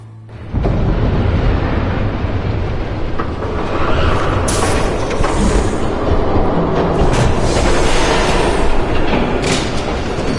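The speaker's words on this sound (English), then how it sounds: "There's a train coming." Train rumbling past in the Batman: The Telltale Series video game, a loud, continuous, heavy roar with rattling and hiss that holds steady for the whole stretch, with no talking.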